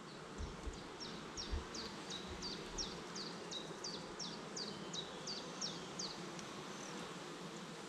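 Honeybees buzz steadily around an open hive frame holding larvae, eggs and capped brood during inspection of a nucleus colony, a dense continuous hum with faint rustling and occasional low handling bumps near the start.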